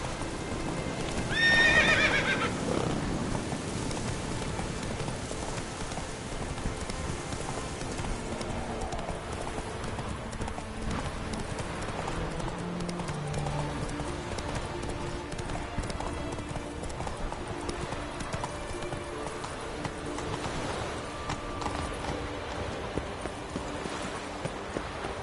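Horse hooves clip-clopping in The Witcher 3 video game, with a brief whinny near the start, then steady galloping hoofbeats running continuously under ambient game music and surroundings.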